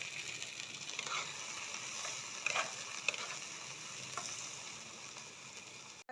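Soaked lentils frying in a pan, a faint steady sizzle with a few light scraping stirs and clicks.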